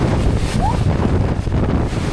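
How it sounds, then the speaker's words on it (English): Hurricane storm surge roars as wind buffets the microphone and waves churn, a loud, continuous, dense wash of noise with no clear breaks, heard alone. "What you're looking at is one of the most terrifying forces of nature, storm surge."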